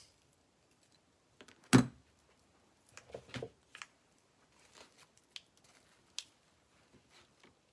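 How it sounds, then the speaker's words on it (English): Scissors snip through Halloween craft pieces, a few soft cuts close by in an otherwise quiet room, with a sharper snip early on followed by scattered small clicks and rustles. "I think I need to cut these some more."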